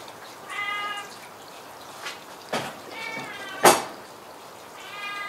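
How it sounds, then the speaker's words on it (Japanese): A cat meows several times outdoors on a snowy day, the calls moderately close and spaced apart, mixed with a couple of sharp knocks against a quiet background. "今ちょっと猫が来ましたんでね"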